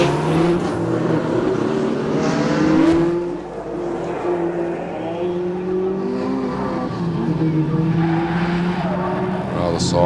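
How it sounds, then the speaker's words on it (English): A 6-litre VT Commodore climbs a mountain hillclimb course at a racing event. The engine note rises and falls through the gears over several seconds with some tyre squeal, heard from a moderate distance and mixed with commentary. "Max Wittmann now climbing the mountain in his VT Commodore"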